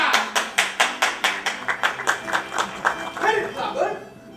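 A stage audience claps in time for a nightclub performer, Harry Plummer, with a rapid, regular beat of many hands that loosens and fades into crowd chatter near the end.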